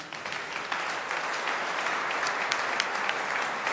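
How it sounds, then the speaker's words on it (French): A church congregation applauds to acclaim God, steady dense clapping at moderate volume throughout with a few sharper individual claps standing out, and no voices over it. "Est-ce qu'on peut acclamer Dieu pour mon Seigneur?"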